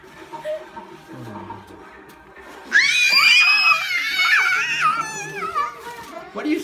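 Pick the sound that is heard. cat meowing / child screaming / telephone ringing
child screaming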